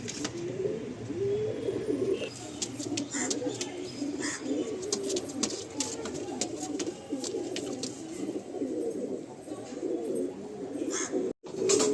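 A Madrasi pigeon coos steadily and close by in soft repeated throaty rolls, with occasional light chirps and wing or cage clatter around it and no talking.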